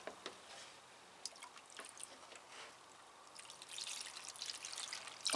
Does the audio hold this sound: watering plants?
yes